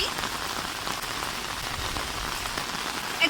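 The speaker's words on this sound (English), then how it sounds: "it's raining and the weather is so pleasant at my place." Rain pours steadily, a dense hiss of drops pattering on surfaces nearby, continuous and even with no speech.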